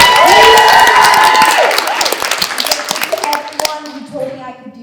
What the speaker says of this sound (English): Give yourselves a round of applause, I guess.